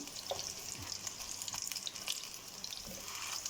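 Kofta fries in a pan with a soft, steady sizzle and a few light scrapes, quiet and brief, with no speech.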